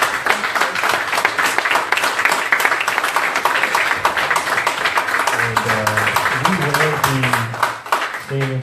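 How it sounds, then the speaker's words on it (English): Sustained audience applause at a mental health and prescription drug symposium, a dense wash of clapping filling the room, with a voice starting to speak over it near the end. "Let's give Dr. Reynolds a round of applause."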